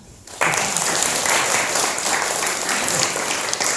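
An audience at a talk on Catholic church teaching about marriage breaks into applause after a short quiet moment, a dense, even clapping that carries steadily to the end.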